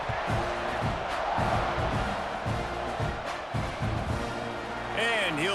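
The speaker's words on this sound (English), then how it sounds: "this crowd is buzzing after that last score" A stadium crowd in a college football video game, Delaware against Texas A&M, keeps up a loud, dense roar with scattered cheers and whoops, while a commentator speaks over it.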